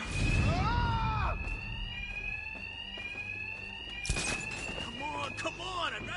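Fire alarm ringing in a Batman video game, a steady high electronic tone sounding continuously through the scene while a voice talks over it, with thuds and footsteps in the background.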